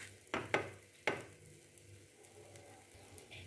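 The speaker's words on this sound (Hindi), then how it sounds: "अब हम इसे कुछ देर दूसरे साइड से भी अच्छे से पकने देंगे।" Diet-friendly food fries in a pan as it cooks on its second side, a faint steady sizzle broken by a few soft scraping or stirring taps near the start.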